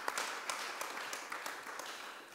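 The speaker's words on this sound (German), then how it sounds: "noch einmal einen Applaus" Steady applause from a crowd, many hands clapping continuously with a few sharper claps standing out, no voices over it.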